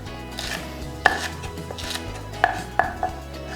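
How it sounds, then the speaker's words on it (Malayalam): A knife slices green chillies on a board for chilli chicken. There are a few crisp, close chopping strikes, two of them near the start and several more toward the end, over faint room noise. "ചില്ലി ചിക്കന് കട്ട് ചെയ്യണ പോലെ നമുക്ക് സ്ലാൻഡായിട്ട് കട്ട് ചെയ്യാം"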